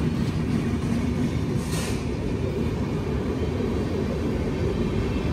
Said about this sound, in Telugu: ఆపోజిట్లో ఇంకో ట్రైన్ పోతుంది.